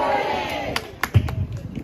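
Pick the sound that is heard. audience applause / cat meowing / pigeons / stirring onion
audience applause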